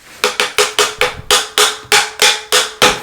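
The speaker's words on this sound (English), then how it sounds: "I need a hammer." Rapid series of about ten hammer blows striking a hollow PVC pipe, each with a short ringing decay, loud and close at a steady pace.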